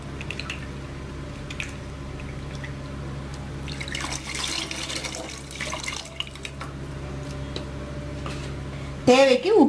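Water pours and splashes into a pot of Nagercoil-style fish curry in a few bursts, with liquid sloshing and dripping against a low kitchen hum.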